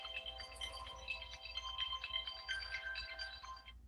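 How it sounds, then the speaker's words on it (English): A mobile phone ringtone plays a repeating electronic melody that rings steadily for about four seconds and then cuts off, with no talking over it. "That's my phone."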